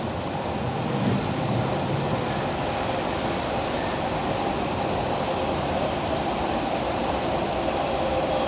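A steam train arriving, a dense, steady rumble of rolling wheels and rail noise that stays loud and continuous with no speech.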